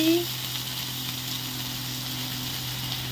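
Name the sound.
chopped onions poured into hot oil, sizzling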